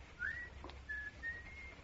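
A thin, faint whistled tune, a few sustained notes rising and gliding, heard alone over a low hum.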